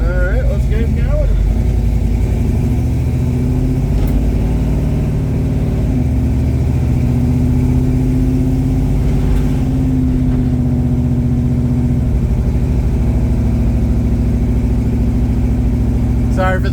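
A 1979 Pontiac Trans Am runs steadily on its first drive in twelve years, its engine a continuous low rumble that barely changes as it idles and cruises, loud and close the whole way through.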